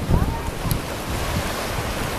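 Typhoon No. 26 surf pounding the Nakagi coast in Minami-Izu, with heavy waves and strong wind buffeting the microphone in a continuous roar, a few louder surges near the start, no voices.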